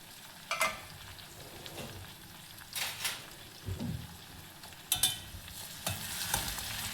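A spoon scrapes and turns ridge gourd and lentil curry in a pan, a few separate soft scrapes and clinks with a faint sizzle between them, quiet and close.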